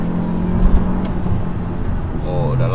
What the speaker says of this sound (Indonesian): Oke guys, jadi kita tes jalan mobil ini